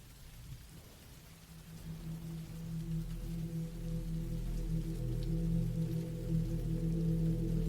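Steady rain falls outside a cabin in the woods, a soft continuous hiss with a low, sustained rumbling drone underneath that grows slightly louder; no one speaks.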